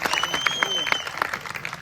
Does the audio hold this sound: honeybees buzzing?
no